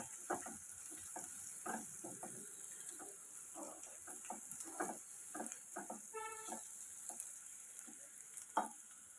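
Ivy gourd and egg fry in a pan with soft, irregular stirring scrapes and light sizzle, quiet and close, with scattered ticks from the utensil against the pan.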